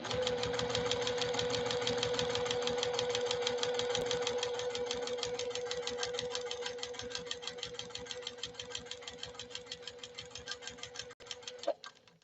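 A JUKI TL 2020 PE sewing machine stitches at stitch length 2 in a workshop, a fast, even mechanical chatter running steadily for several seconds before slowing, with a clunk as it stops.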